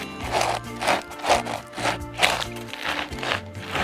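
A hand saw rasps steadily through dry wood in regular back-and-forth strokes, close by and fairly loud, with a faint hum underneath.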